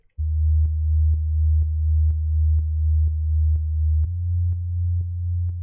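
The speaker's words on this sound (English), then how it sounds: "the sub bass is just it's a default Ableton hip hop sub bass patch" A deep, smooth default Ableton hip hop sub bass patch holds a low sustained tone, pulsing with soft regular clicks and shifting pitch slightly near the end; no voices.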